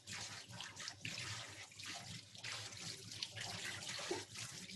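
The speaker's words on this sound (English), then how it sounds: "Give my knife a quick rinse." Tap water runs steadily into a kitchen sink as a knife is rinsed during a cooking event, a broad continuous splashing with faint clinks, close and alone without talk.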